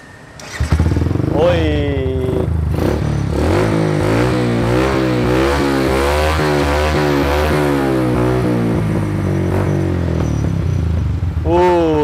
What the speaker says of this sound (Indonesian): Kalau suara custom knalpot kita ini ngebas cuy, hitungannya ngebas, nggak sember, masih bulat lah